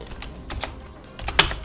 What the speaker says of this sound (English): you can type anything here